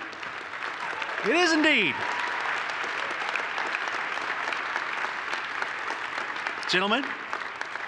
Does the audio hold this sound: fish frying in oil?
no